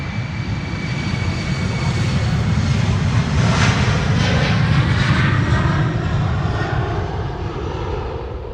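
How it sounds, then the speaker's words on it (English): KLM jet airliner departing Amsterdam Schiphol Airport, a loud, sustained engine roar that swells toward the middle and holds steady with a broad rumble and a faint whine. "Here we go, KLM flight 1303 to Gdansk."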